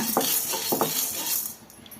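Dry peanuts and urad dal roasting in a pan over a low flame, with a few clinking stirs of a utensil against the pan that fade into quiet.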